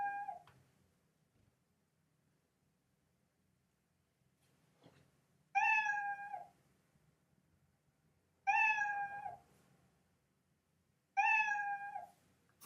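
Three loud, clear cat meows from a Scratch game sound effect, evenly spaced a few seconds apart, with a faint fourth at the very start and near-silence between.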